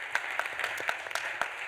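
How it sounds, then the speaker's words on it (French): Applause from the audience at a roundtable conference. Scattered claps sound at moderate distance, thin and brief rather than a full ovation. "on peut applaudir déjà petite Céline"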